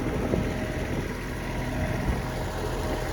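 A small Hitachi NZ 195 tractor engine of nearly 20 horsepower chugs steadily nearby while ploughing, a low rumbling drone with light wind buffeting and no speech.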